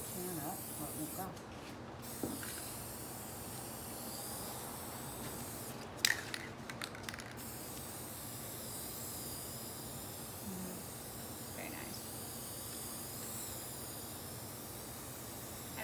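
Paint sprayed from an aerosol can in soft, hissing bursts, a few short blasts followed by a longer one, heard close against a quiet room background.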